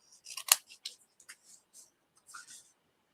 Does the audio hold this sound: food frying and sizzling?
no